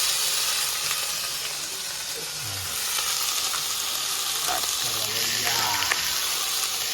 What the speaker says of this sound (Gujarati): જો આપણે રાઈ નાખી દીધી. વઘાર કરી નાખ્યો